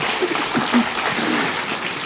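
Assembly audience applauding in a hall, a steady wash of clapping for about two seconds with no voices over it.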